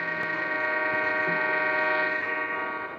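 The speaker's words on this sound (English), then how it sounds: "Horn." A train horn blows one long steady blast, close and loud, with a rich chord of tones and faint rail rumble beneath.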